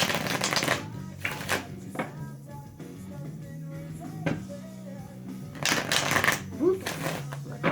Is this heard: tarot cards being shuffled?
yes